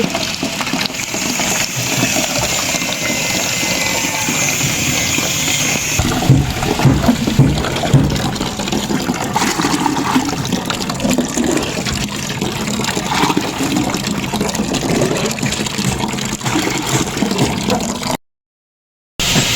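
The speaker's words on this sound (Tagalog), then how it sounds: "tayo naman po ay nag-iigib po dito ng tubig." Steady rushing water pours continuously for nearly the whole stretch, loud and close, with a mechanical hum underneath, then cuts off briefly at the end.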